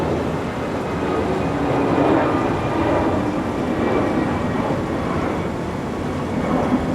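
Steady, loud cabin drone of an airplane flying through clouds, an even broadband roar with a faint tonal hum and no voices.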